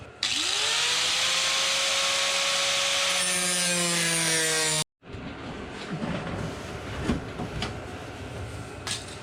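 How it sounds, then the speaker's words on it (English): A power cutting tool slices rust out of a 1973 Monte Carlo quarter panel, a loud steady whine for about five seconds that drops in pitch under load, then a sudden stop followed by rougher grinding and scraping nearby. "cut all that rust out"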